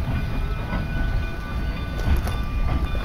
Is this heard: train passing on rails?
yes